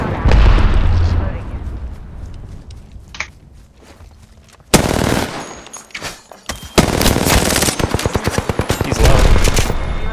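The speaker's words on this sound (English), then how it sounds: "Snap grenade sent. Chucking grenade straight up." A grenade blast and gunfire in a squad shooter video game, a booming explosion followed by rapid bursts of automatic fire and footsteps, loud and busy close up.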